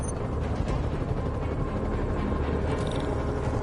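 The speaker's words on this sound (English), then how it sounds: "Bet I can use those helicopters to swing." Helicopters flying overhead in the Spider-Man PS4 video game, a steady loud rotor roar with a dense low rumble that runs the whole time with no talk.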